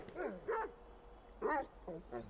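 Chop, the dog in GTA 5, gives several short yips and whimpering barks in quick bursts, fairly quiet, with a voice talking over part of it.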